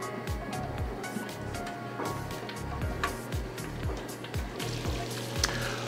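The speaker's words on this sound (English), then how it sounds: "We're gonna slightly get the salted butter melted." Two sticks of salted butter melt in a pot as the start of a Cajun roux, giving a soft, steady sizzle with faint crackles and regular low scraping strokes from stirring.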